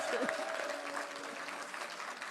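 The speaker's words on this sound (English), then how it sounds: "But we will clap for it." A crowd at a motor drivers union gathering honoring President Julius Maada Bio breaks into sustained applause, a continuous wash of clapping with faint voices beneath.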